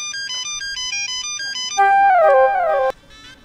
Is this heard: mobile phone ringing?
yes